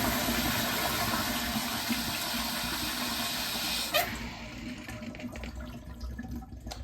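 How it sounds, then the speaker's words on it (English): A Sloan commercial toilet flushes during a plumbing repair, a loud steady rush of water and hiss that cuts off abruptly partway through, leaving quieter gurgling and trickling refill noises close by. "I leave my screwdriver on the control stop and go ahead and test flush."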